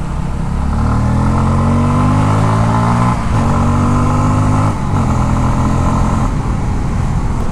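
A Bajaj Pulsar F250 motorcycle with slipper clutch drops gears and accelerates to overtake a truck on the highway, its engine droning loud and close with stepped pitch changes as gears shift, wind noise throughout.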